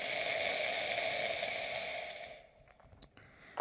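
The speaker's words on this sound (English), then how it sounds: "So you'll just want to open the steam valve." A La Pavoni Europiccola vintage lever espresso machine's steam valve blasts a loud, steady hiss for about two seconds, then cuts off, leaving faint sputtering and a few small clicks.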